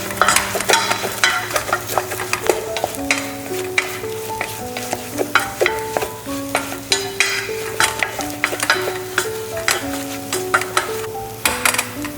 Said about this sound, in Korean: 그리고 여기서 저으시면서 반죽을 만들어주는 거예요